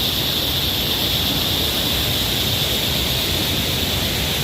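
A forest waterfall roars in a dense, steady wash of noise, loud and unbroken from start to finish with no other sounds standing out.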